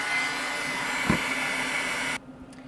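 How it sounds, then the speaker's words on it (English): A heat tool runs steadily to dry pigment ink on a stamped card, giving a continuous close-up blowing whir that cuts off abruptly near the end, leaving a quiet room. "So I'm going to go ahead and hit that with my heat tool"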